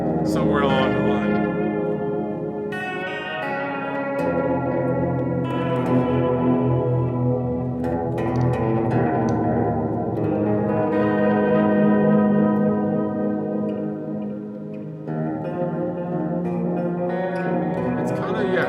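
An MXR Layer guitar effects pedal gives a dark, ambient, sustained guitar wash with layered echo and reverb that swells and shifts steadily throughout.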